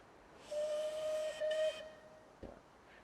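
A steam-style train whistle from a train simulator game blows a single clear sustained tone for about a second, briefly interrupted, followed by a faint hiss and a soft knock.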